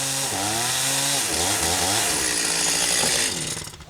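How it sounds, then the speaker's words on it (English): A chainsaw cuts a window opening into a log wall using a saw jig, its engine whining loud and close with pitch sliding up and down as the bar bites through the wood, easing off at the end. "to saw freehand with a chainsaw is almost impossible to get a straight cut."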